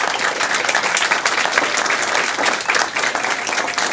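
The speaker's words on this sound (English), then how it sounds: "Let's give them a big round of applause." Steady, dense applause fills a school district board meeting room, many hands clapping loudly and continuously with no voices over it.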